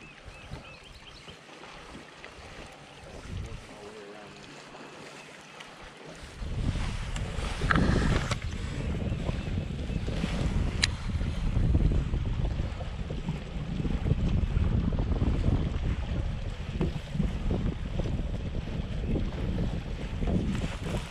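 Spring wind blowing across Lake of the Ozarks, heard from a bass fishing boat: quiet at first, then a loud gusty rush buffeting the microphone with water slapping beneath, continuous and close.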